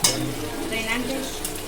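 A spoon stirs yogurt into tomato gravy in a pan: steady scraping and a soft sizzle run throughout, with a light clink near the start. No talking.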